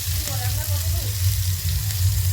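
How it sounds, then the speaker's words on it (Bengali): A few whole dried red chillies frying in hot oil in a kadai, giving a steady close sizzle throughout, with a faint voice briefly audible early on. "গরম কড়ায় তেল আর সাধারণ গোটা 2-3 শুকনো লঙ্কা, একবারে সাধারণ রান্না।"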